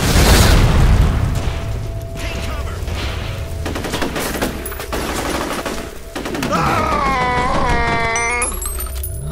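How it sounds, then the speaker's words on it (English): Grenade blast in the shooter game F.E.A.R.: a loud, heavy boom opens the moment, followed by sustained rattling gunfire and debris noise, with a rising tonal effect near the end. "grenade!"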